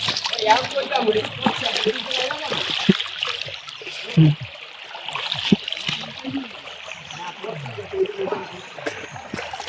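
Forest stream water splashes and trickles as hands and face are washed on the Hamham waterfall trail, close uneven sloshing under a voice and others talking.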